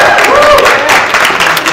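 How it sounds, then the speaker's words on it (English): An audience at an anime convention music gaming panel applauds for a panelist, a dense, steady wash of clapping from a crowded room with some voices mixed in, loud throughout. "Give Steve a round of applause for."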